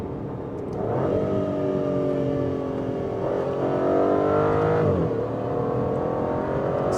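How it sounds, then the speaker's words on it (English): An Aston Martin Vantage V12 Roadster at full throttle, its V12 engine revving up through the gears with rising pitch sweeps and brief dips at shifts, loud and continuous with no talking. "So people, let's give it full throttle here."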